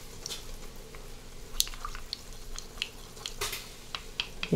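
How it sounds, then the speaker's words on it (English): Short rib meat sizzles inside an Instant Pot, a steady close crackle dotted with small pops and wet spits, with no voices over it. "You can hear the sizzling of the meat."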